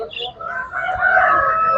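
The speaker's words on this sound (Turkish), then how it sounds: "Bu şekilde tavuk pazarımız." Chickens crow and cluck at a crowded poultry market in Tuzla, loud and close, with a busy background hum and some voices mixed in.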